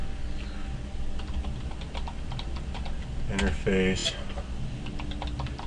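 Keys clatter on a computer keyboard as networking commands are typed to configure a router's serial interface, with soft clicks running through the clip and a quick burst of keystrokes near the middle while someone talks over them.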